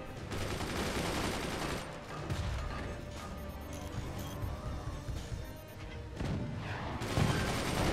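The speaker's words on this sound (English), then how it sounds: "That cannon went right through." Cannon fire in the multiplayer artillery game Forts comes as a dense barrage of booms and crashing impacts, loud and continuous with several sharper bursts layered throughout.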